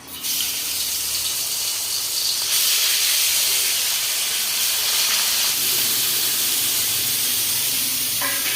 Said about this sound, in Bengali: তেলটা গরম হয়ে গেছে কই মাছটা দিচ্ছি